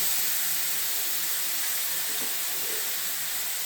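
A steady, loud sizzle hisses without pause, like spices frying in hot oil close up.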